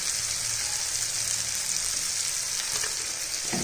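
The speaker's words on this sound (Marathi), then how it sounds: "एक दोन मिनटं आपल्याला व्यवस्थित आपल्याला फ्राय करून घ्यायचं" Bombil (Bombay duck) bhaji frying in a pan, a steady dense hiss and sizzle that stays loud and close throughout, with faint stirring scrapes near the end.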